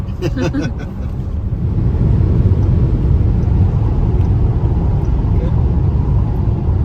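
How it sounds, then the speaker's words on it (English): A NIO ET5 Touring electric wagon cruises at high speed on a German motorway, giving a steady, loud broadband rumble of road and wind noise that stays constant throughout. "This car cruises at seemingly over 200 kilometers per hour."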